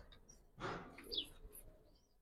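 A male Giribaz pigeon gives a short coo, a single near, low burst followed by a few faint chirpy notes, quiet and alone without talk.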